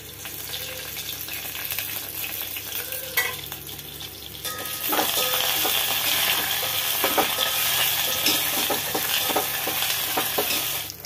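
A tempering of cumin, mustard seeds, chana dal, urad dal, curry leaves and dried red chilies hits hot oil for puri curry, bursting into a loud, steady crackling sizzle that continues close and alone.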